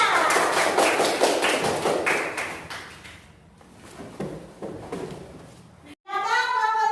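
A schoolroom of children applauds a group, dense rapid clapping at the start that thins out over several seconds, with chatter mixed in and a brief cut before louder voices.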